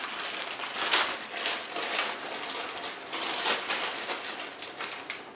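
Small plastic bags holding water meters for orchid potting crinkle and rustle continuously near at hand, a dense crackling texture with irregular louder crunches throughout.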